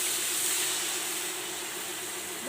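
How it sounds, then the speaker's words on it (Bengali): Gravy poured into a hot pan of fried spices for an egg curry sends up a loud, continuous hiss of steam and sizzle that stays steady throughout. "ঝোল দিয়ে দিচ্ছি"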